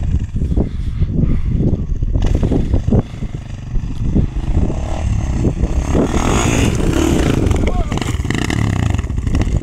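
A Honda XR400R motorcycle on open ground revs hard with too much throttle, its engine roaring loud and close through the clip, surging and rising near the end, with voices talking over it.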